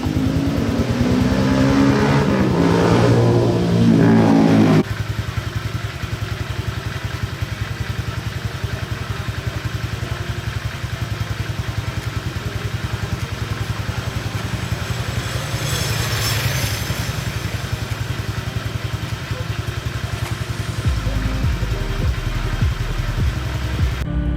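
Honda Click 125/150 scooter engine on a test ride after an oil change: a loud, busy rev over the first few seconds, then a steady, continuous engine drone with a deeper rumble near the end.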